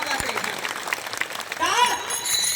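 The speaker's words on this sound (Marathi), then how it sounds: "टाळी वाजवा जोरात" An audience at a devotional kirtan gathering claps loudly and continuously, making a dense, close wash of applause, with voices calling out over it.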